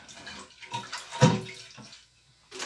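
Water splashes and gurgles in short bursts as a toilet tank drains, with a louder rushing surge near the middle, then a pause before another splash at the end.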